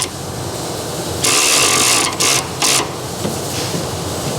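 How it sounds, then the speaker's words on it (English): A 12mm socket on a ratchet adjusts the upper suspension arm of a car set up for drifting. It makes loud, close mechanical whirring and rasping in a few bursts over steady background noise. "I'm taking a 12mm socket and simply"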